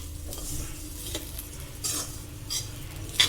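Coconut being mixed in a frying pan, with soft steady sizzling under several scraping strokes of a spoon or spatula against the pan, close and fairly quiet.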